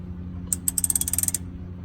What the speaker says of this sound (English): Now you can go ahead and get that wrench back on there.